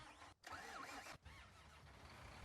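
In the Farming Simulator 19 video game, a tractor engine cranks and starts with a mid-pitched mechanical churn. Two brief dropouts break it before it settles into a steady running drone, fairly quiet overall.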